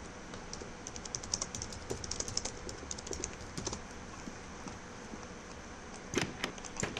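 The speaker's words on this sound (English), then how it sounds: "if you guys hear, like, multiple clicks to do one thing, that's because my mouse is just crap" Rapid computer mouse clicks from a faulty mouse during online server gameplay, sharp close taps coming in quick irregular bursts over a quiet background with no talking.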